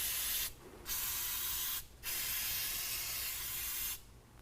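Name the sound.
spraying silicone spray on exhaust hangers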